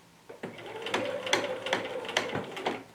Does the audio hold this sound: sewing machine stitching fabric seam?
yes